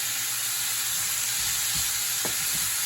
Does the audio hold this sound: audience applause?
no